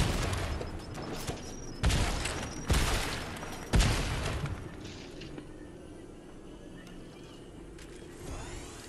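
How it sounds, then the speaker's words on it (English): Grenade explosions in the video game Fortnite: three loud, sharp booms in quick succession, each followed by a short rumbling decay, then quieter ambient game noise. "Threw a grenade."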